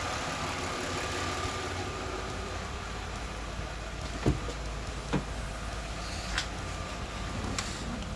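A Jaguar X-Type 3.0 V6 idles steadily with its cooling fan running, a constant low engine hum and fan whir close by, broken by a few faint clicks and knocks.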